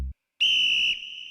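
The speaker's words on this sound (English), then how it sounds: "his coach blows the whistle" A coach at a wrestling match gives one sharp, loud blast on a whistle, a steady shrill tone of about half a second that fades into a softer tail, after a brief silence.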